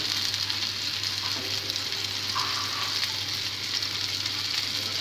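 Fish fries in a lightly oiled pan at home, giving a steady, close sizzle that holds evenly throughout with no talk.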